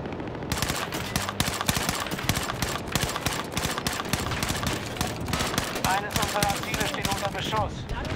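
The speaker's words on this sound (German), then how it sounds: "Schuss" Battlefield 2042 gameplay gunfire, dense rapid bursts and shots running continuously throughout, loud and near, with a player's voice talking over it.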